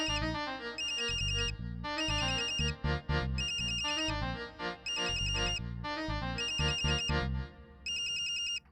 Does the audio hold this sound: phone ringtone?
yes